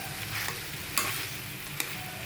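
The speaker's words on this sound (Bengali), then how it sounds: "পুঁটি মাছটা ভাজবো মচমচা করে" Puti fish frying in oil until crispy, a close, steady sizzle with a few sharp crackles and pops, no voices.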